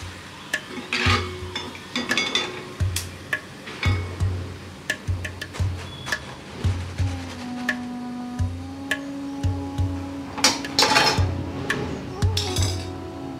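Chicken pieces for Hyderabadi chicken majestic fry in batches in hot oil, with a steady crackling sizzle broken by repeated clinks and stirring scrapes of a utensil against the pan, up close and without talk.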